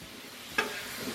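Shrimp frying on a Blackstone griddle give a steady, fairly quiet sizzle with a brief sharp burst just past the halfway point, as if food is stirred or moved on the hot surface.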